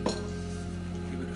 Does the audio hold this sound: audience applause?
no